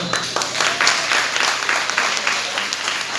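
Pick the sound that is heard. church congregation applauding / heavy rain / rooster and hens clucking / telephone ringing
church congregation applauding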